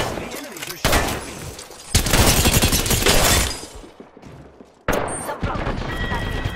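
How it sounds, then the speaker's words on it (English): Enemy gunfire in a video game shooter, dense crackling bursts of shots in several long volleys, loud and continuous with brief lulls between them. "The enemies are shooting at me."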